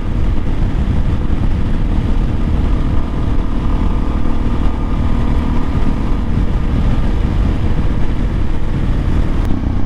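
A Kawasaki KLX 400 dual-sport motorcycle riding along, its engine a continuous low drone smothered by heavy wind rush across the microphone throughout, with no voices.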